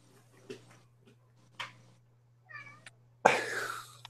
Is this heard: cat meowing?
yes